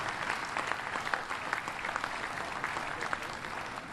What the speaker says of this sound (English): So give them another round of applause for their hard work and dedication.